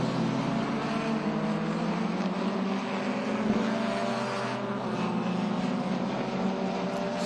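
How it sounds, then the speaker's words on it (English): Race cars, among them a red and silver Datsun 510 trailed by the race leaders, roar past at a track in a steady, loud engine drone with no talk. "So that's Daniel Wu there in that red and silver Datsun 510, and now he's being followed by the leaders"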